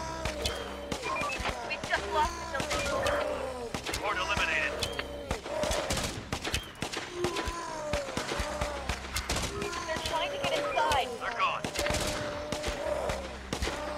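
In the zombie survival strategy game Infection Free Zone, scattered rifle shots and bursts pop repeatedly at moderate loudness, mixed with a player's voice talking over them.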